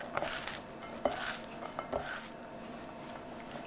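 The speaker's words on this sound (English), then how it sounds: "And then mix it with your hands." Okra being mixed by hand with lemon juice in a bowl, giving soft close wet squelching and stirring sounds with a few light clinks of dish or utensil, no talking.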